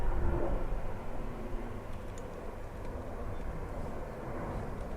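Aircraft departing Dublin Airport, a loud, steady broadband engine roar that holds at a constant level throughout, like a plane close by on its takeoff run.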